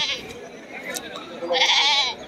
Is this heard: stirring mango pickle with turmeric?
no